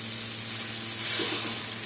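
Water poured onto fried masala in a hot pan sets off a loud, steady sizzle and hiss that swells briefly near the middle, close up with no talk.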